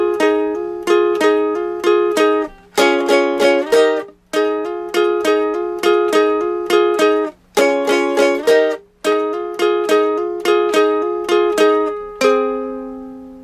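Plucked ukulele plays a quick repeating lick from the Charlie Brown Peanuts Christmas tune, in clustered bursts of bright notes with short gaps between phrases, close and alone with no voices.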